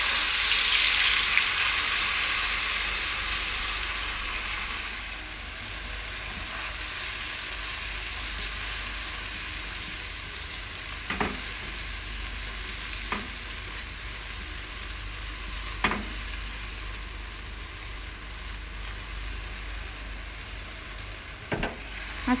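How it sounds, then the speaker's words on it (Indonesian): Ground spice paste stir-fries in about six tablespoons of cooking oil, a loud constant sizzle that eases after the first few seconds. Occasional spoon scrapes and taps sound against the pan. "Tumis bumbu yang sudah dihaluskan dengan kurang lebih 6 sendok makan minyak goreng."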